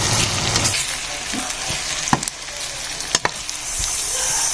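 Spice tempering for mango pulihora sizzles steadily in a hot pan, a bright continuous crackle broken by a few sharp utensil knocks and clinks near the end.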